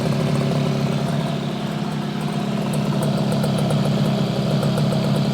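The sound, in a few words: 1968 Yamaha YAS1C 125 twin engine running, misfiring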